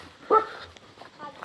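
A dog gives a short bark or yelp amid outdoor chatter at a village spot near an abandoned temple at night, a brief loud burst followed by fainter sounds, with people talking.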